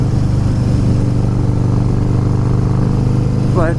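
A Harley-Davidson Fat Boy S motorcycle being ridden on a California road, its engine a loud, steady low drone that holds throughout with wind rush, and a brief voice near the end.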